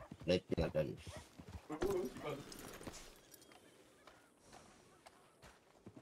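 Horse hooves clip-clop in a Red Dead roleplay game while a brown horse is being tamed, a burst of close, rhythmic hoofbeats in the opening seconds that fades to faint ambience, with people talking over it.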